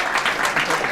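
A room of guests claps steadily at a Hall of Fame induction dinner, dense, even applause filling the space without pause.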